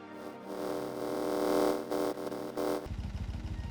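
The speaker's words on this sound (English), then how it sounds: "we should increase the engine power, else the vehicle will overstress and the engines will bleed out" Bagger 107 engines in the Minecraft Create mod, video game, give a loud droning hum that swells and wavers, then switch to a rapid, rhythmic mechanical chugging.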